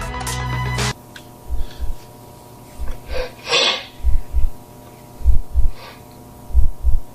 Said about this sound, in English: Does it have a heartbeat?